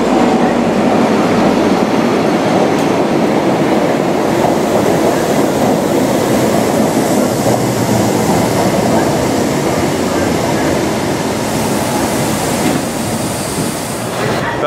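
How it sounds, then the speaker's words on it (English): A train rumbles and rattles loudly as it arrives at a platform, a continuous heavy roar with clattering wheels and a faint squeal toward the end. "this is our next train"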